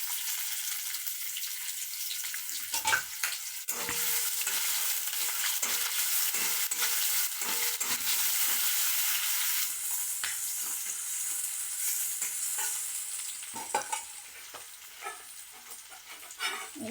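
Chopped onion with panch phoron frying in hot oil in a kadai: a continuous close sizzle broken by intermittent scraping and stirring strokes, with no talking.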